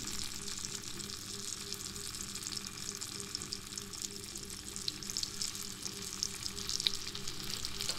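Cut potatoes dropped into oil with a cooking tomato masala give off a soft, steady sizzle and crackle, faint and continuous throughout, with a low background hum.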